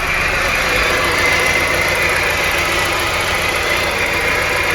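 A VW Golf IV engine with a faulty ignition coil runs at a steady idle up close, a constant loud hum and rattle with a faint irregular knock and no voices.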